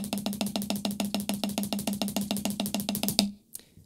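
Drum kit played at a quick tempo using the weak hand and weak foot together, a steady fast stream of about two dozen even strokes with a low drum thump under bright cymbal-like hits, close and alone before stopping.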